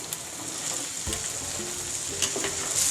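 Chopped okra sizzles in a pan with garlic-chili paste as it is stirred, a soft steady frying hiss broken by a few light scraping clinks of the spoon.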